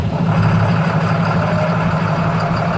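A truck engine with boosted hydraulics idling, a loud, steady, low diesel rumble running throughout.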